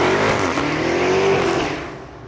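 A 797-horsepower Dodge Charger Hellcat Redeye accelerates hard with a loud, rising engine roar close by, its pitch climbing before the sound fades away.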